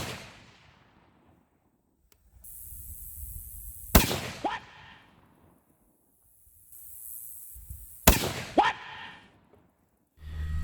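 Two sharp 7mm-08 rifle shots fired at a range with 100 grain Varminter loads, each a loud crack followed by a fading rumble, with wind hiss between them.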